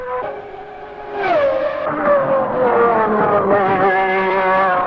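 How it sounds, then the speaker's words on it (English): A 1991 Marlboro McLaren Honda Formula One car screams round a circuit, its high-revving engine climbing sharply in pitch and staying loud and close for several seconds, with no talk over it. "Soon, the car was hurtling round the track."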